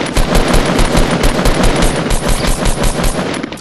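Rapid automatic gunfire from the Fortnite: Battle Royale video game, loud and continuous bursts of shots with a steady rhythm and no talking over them.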